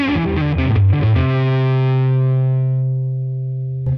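An electric guitar runs through a pedalboard with the volume all the way up, giving a short distorted flurry of notes and then a sustained, saturated chord that rings out and slowly fades.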